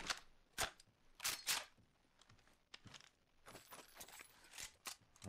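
The Mozambique shotgun fires in the Apex Legends video game as sharp, snappy cracks scattered irregularly among clicks and rattles. They sound fairly quiet and close.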